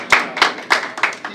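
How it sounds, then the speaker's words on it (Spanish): Hand clapping at a farewell gathering for a departing captain at an art event, about five distinct bursts in an uneven rhythm, fairly close and moderately loud, with no talk over it. "quiero dar un aplauso por eso"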